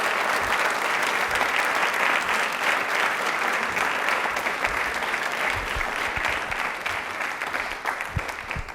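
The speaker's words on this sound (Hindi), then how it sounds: "तालियां एक बार जोरदार हो जाए सर के लिए प्लीज।" Sustained, dense applause from a studio audience on a televised question-and-answer programme, welcoming a university vice-chancellor, holds evenly for nearly nine seconds before thinning a little at the end.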